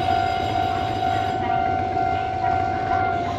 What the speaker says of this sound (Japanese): さあ電車が来るそうです。